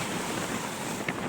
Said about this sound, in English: Sorry about the wind and noise in the background,